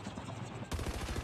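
Rapid automatic gunfire in the mobile shooter game Call of Duty Mobile, dense fast bursts cracking close and loud after a short lead-in of softer game noise, with no talking over it.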